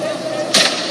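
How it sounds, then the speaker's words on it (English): A Porsche supercar's windshield is smashed with one sudden sharp crack and crunch that stands out briefly over steady background noise. "he just smashed his whole windshield"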